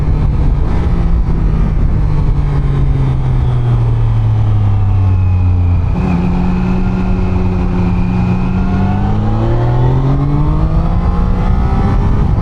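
A Triumph Daytona 660 motorcycle engine, in its restricted A2 version, revs up repeatedly in rising sweeps, with a loud, steady drone that dips and climbs again through gear changes.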